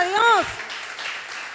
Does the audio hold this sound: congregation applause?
yes